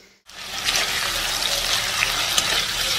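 Bitter gourd and boiled potato fry with onion and turmeric in a pan, giving a steady, close sizzle that starts abruptly and stays loud throughout.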